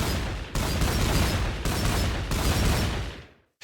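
Crescent Rose firing in the Minecraft RWBY mod, three loud sustained bursts of dense crackling gunfire separated by brief gaps, ending in a fading tail.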